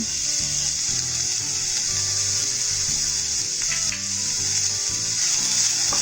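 Pizza samosa filling with Italian herbs like oregano and thyme being stirred in a hot pan, giving a steady, close sizzle with faint scraping throughout and no talk.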